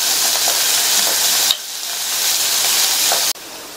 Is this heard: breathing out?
no